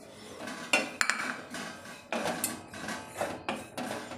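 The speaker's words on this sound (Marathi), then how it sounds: "आता हीच कढई गरम आहे, यामध्ये आता मी हे सुकं खोबरं भाजून घेणार आहे" Dry coconut being roasted in a hot kadhai, with a spatula scraping and knocking against the metal pan in close, irregular strokes, several sharp clanks standing out above a soft rustle.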